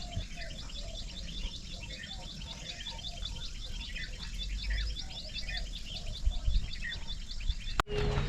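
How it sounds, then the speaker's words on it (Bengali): Small forest birds call and chirp outdoors in Purulia, a steady rhythmic series of bright repeated notes, moderately distant, with a brief knock near the end and no talking. "সুন্দর পাখির ডাক দেখো তো তোমরা শুনতে পাচ্ছ কি না"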